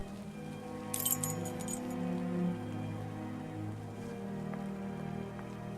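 Steady rain falls in the Sherlock Holmes Nemesis video game, a continuous hiss with a brief burst of bright clinking early on and low rumbling underneath.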